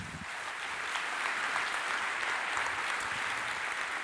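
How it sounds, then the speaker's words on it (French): Sustained applause from a conference keynote audience greeting a speaker on quantum computing, a dense, even wash of many hands clapping at moderate distance for about four seconds with no talk over it. "Applaudissons bien fort David Rousset."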